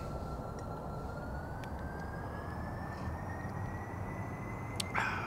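A plane's engine in Kerbal Space Program runs at full throttle, a dense steady roar with a thin whine slowly climbing in pitch, holding constant with a small bump at the close.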